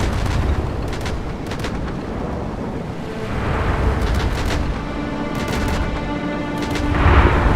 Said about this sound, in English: those explosions, like the blast from the gun could be a little bit louder